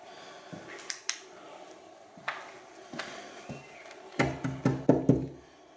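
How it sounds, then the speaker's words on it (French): Sharp knocks rap on a door inside a building: a few scattered single taps, then a louder, quicker cluster of raps near the end, with no voices. "C'est moi qui viens de cogner."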